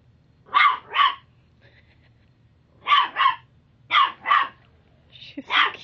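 A small dog named Pixie barks at a big stove in sharp close bursts, mostly in pairs with short pauses between, ending with a softer yip before another bark.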